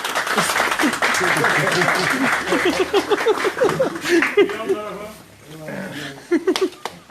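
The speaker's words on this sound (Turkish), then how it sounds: "Alkış." A crowd claps and cheers at a political party event. The applause is loud and dense at first, then thins into scattered claps, with voices and shouts mixed in.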